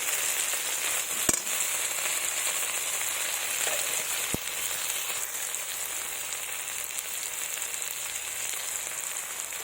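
Ground chilli, ginger and cumin paste frying in a pan, a dense continuous sizzle with a few sharp pops and spatters, close and loud with no talking.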